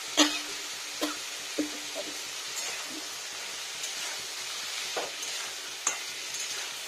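Potato, pea and paneer curry being sautéed and stirred in a pan, a steady soft sizzle broken by several sharp scrapes and clinks of the spoon against the pan at irregular intervals, close up with no talking.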